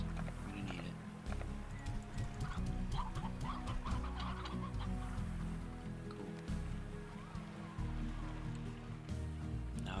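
Chickens cluck in the Slime Rancher video game, a scattered series of soft clucks over a continuous watery ambient background, with someone talking over them.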